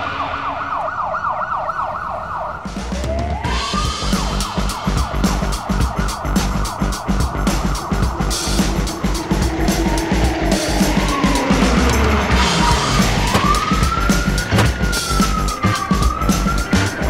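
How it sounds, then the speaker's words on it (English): Loud cartoon emergency vehicle sirens wailing and sweeping up and down, several overlapping over rumbling traffic noise, close by and continuous. "The emergency turn on the lights and sirens."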